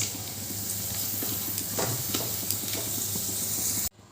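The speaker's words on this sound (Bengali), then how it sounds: "আর একটা পাঁপড়ও আমি ভেজে নিচ্ছি।" A papad fries in hot oil with a dense, continuous close sizzle and scattered crackles for about four seconds, ending abruptly, without any voices.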